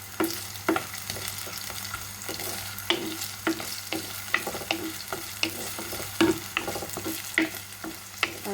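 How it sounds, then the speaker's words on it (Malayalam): Coconut pieces and curry leaves sizzle steadily in hot coconut oil for beef dry roast, with scattered clinks and scrapes of stirring close by and no talk. "തേങ്ങാക്കൊത്ത് കറിവേപ്പിലയും കൂടെ വെളിച്ചെണ്ണ കിടന്ന് നല്ലപോലെ ഒന്ന് സോട്ടായി വരണം"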